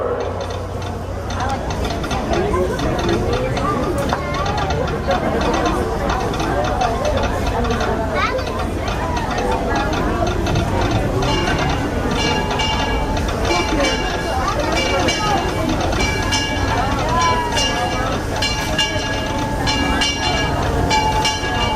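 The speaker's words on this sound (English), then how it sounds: "The Disneyland Limited, now arriving from a trip around Walt Disney's Magic Kingdom." The Disneyland Railroad train pulls into its station amid a busy theme park crowd, with a continuous rumble and clattering wheels and mechanical ticking, while people talk all around.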